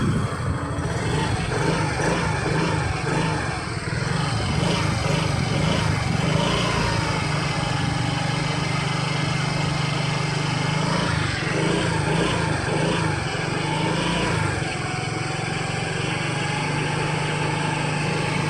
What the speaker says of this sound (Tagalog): lakas ng palo ng fuel pump ng Mio Gear.